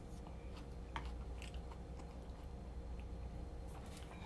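Close, wet chewing and biting of grilled offal (horumon) seasoned with mala spice, a steady run of soft crunches and smacks over a low room hum, with no talking.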